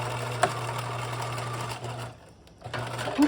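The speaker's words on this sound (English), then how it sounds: "when you reach the end, back stitch again" A sewing machine back stitches at the end of a gathered seam, its steady motor hum running close and loud. It pauses briefly, then starts up again.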